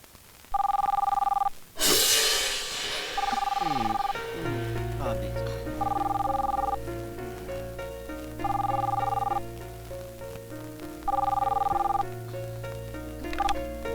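A telephone rings in bursts during a comedy film scene: about five bright, evenly spaced double-tone rings over steady background music, close and prominent.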